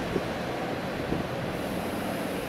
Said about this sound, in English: The wind's picking up actually.